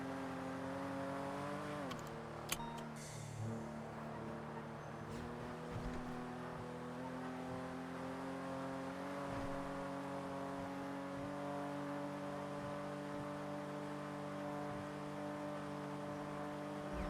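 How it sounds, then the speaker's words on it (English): Car engine revving with a dump-valve-like whoosh, a steady droning tone that dips and climbs in pitch, with a brief hiss burst early on; no talking. "Why does it sound like it has a dump valve in it?"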